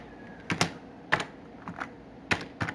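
Several sparse keystrokes on a computer keyboard, close and crisp clicks in small irregular clusters with short gaps, no voices.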